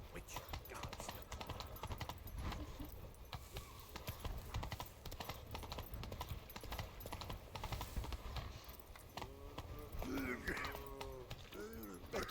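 Horse hooves clop along a road in Witcher 3, a steady patter of game hoofbeats under ambient noise, with cattle lowing in the background near the end.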